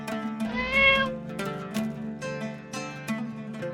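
Cartoon cat meowing in an animated show, a drawn-out bright meow followed by several shorter mewing calls, clear and close with no talk.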